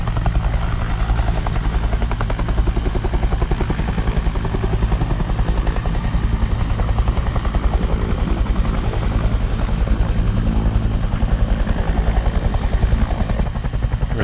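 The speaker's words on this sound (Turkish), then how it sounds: "bayağı bir güçlü bir helikopter var bu sefer" A helicopter in the battle royale video game Knives Out whirs loudly and continuously, its rotor beating in a rapid, even pulse close up throughout, with no voices.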